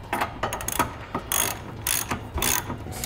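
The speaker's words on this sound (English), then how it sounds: "So we're gonna use a swivel and a short 11/16 socket" A ratchet fitted with a swivel and short 11/16 socket tightens a trailer hitch bolt on a 2013 Subaru, loud close clicking strokes in several quick bursts separated by brief pauses.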